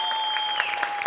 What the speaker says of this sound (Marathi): हरीशसाठी एकदा जोरदार टाळ्या